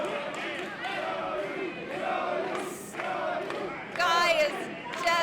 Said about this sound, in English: you can hear this capacity crowd coming alive for Zoe Skye here at Southern Sky Brewing